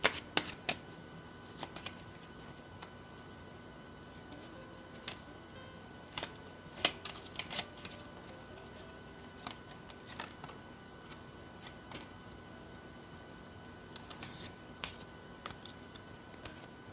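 Tarot cards are handled and laid out in a quiet room, with sparse soft flicks, slides and light taps spaced irregularly across a near-silent background.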